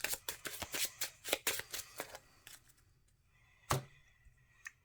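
A deck of Marvel Champions cards is shuffled close up, a quick run of crisp riffling bursts in the first few seconds, then a couple of isolated card snaps against a quiet background.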